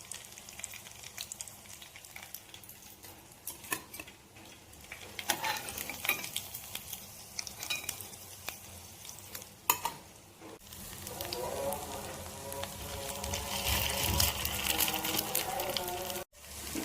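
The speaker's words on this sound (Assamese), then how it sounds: "আজি বৰ ভাজিলোঁ, কাচকল আৰু ভেদাইলতা দুইটা" Raw plantain and ivy gourd fritters frying in hot oil, a steady sizzle that grows louder and denser toward the end, with occasional stirring clatter.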